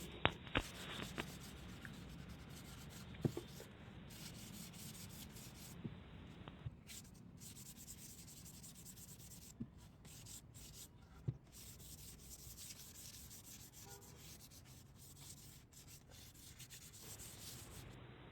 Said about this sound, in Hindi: सैंडिंग करने के लिए हम 220 नंबर या फिर 320 नंबर का वाटरप्रूफ रेगमाल इस्तेमाल करेंगे और अच्छी तरह दबा के लगा देंगे